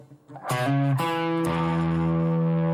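A distorted electric guitar plays a short blues fill: a few picked notes leading into a held chord that rings out, loud and close, with no talking.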